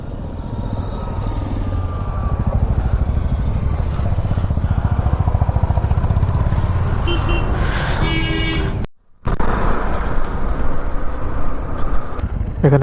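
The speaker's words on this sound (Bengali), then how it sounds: "আমাদের বাইকগুলো একের পর এক আসছে।" Motorbikes on a winter group ride, riding one after another along a road off the highway, their engines roaring loud and close with a steady rumble, a brief dropout and a horn toot.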